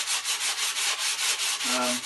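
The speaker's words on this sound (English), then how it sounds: "I've just got this one more door here just to finish the sanding up of" Steady back-and-forth rubbing of sandpaper on a wooden door by hand, close and rhythmic, with about ten even strokes and no talking.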